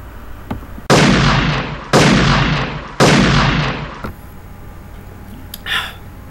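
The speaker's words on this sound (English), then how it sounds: "Good thing I brought my gun." Three loud gunshots from a gun, evenly spaced about a second apart, each a sharp blast with a long decaying tail, followed by quieter background noise.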